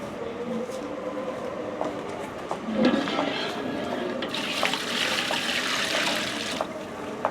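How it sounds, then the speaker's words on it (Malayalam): Water is poured into a cooking pot to boil rice, a splashing gush that swells louder partway through after some faint kitchen knocks and clatter. "ആവശ്യത്തിന് വെള്ളം ഒഴിച്ചു കൊടുക്കുക അരിയുടെ അനുസരിച്ചുള്ള വെള്ളം നമ്മൾ ഒഴിച്ചു കൊടുക്കുക"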